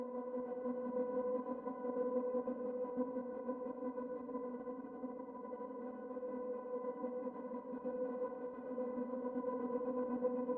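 Albion V Gypsy pad with a gate sequencer, a steady sustained harmonic chord chopped by subtle rhythmic gating into a lightly pulsing texture, even and continuous throughout without speech.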